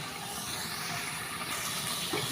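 Spices such as turmeric and chili sautéed in a pan for a chicken curry with giant taro in a village kitchen, giving a steady, even hiss throughout.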